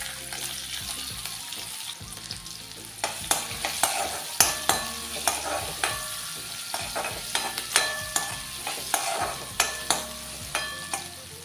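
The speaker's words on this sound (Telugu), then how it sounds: "ఉల్లిపాయలు కొంచెం మెత్తబడితే సరిపోతుంది." Finely chopped onions and asafoetida fry in hot oil with a steady sizzle, while a spoon scrapes and taps against the pan in a regular rhythm. The cooking sounds are close-up and there is no talking.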